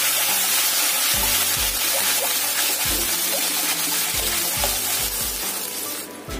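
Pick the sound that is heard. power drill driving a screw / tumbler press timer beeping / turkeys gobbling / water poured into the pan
water poured into the pan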